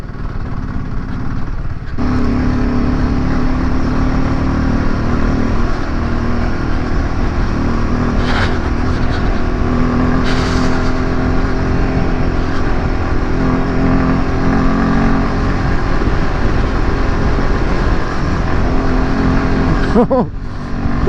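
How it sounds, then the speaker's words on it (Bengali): A motorcycle climbing the Gongkar La mountain pass in first gear under hard throttle, a loud, continuous engine roar with wind rush that stays steady throughout. "ফার্স্ট গিয়ার মারো জোরে থ্রটল দাও বাইকটাকে জাস্ট কন্ট্রোল করো আস্তে আস্তে আর ক্লাইম করতে থাকো"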